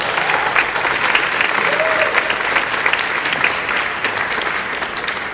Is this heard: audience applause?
yes